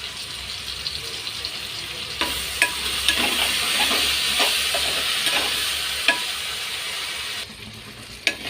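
Ginger garlic paste fries in a hot pan while vegetable rice is cooked, a continuous close sizzle broken by repeated scraping stirs and a few sharp spoon taps.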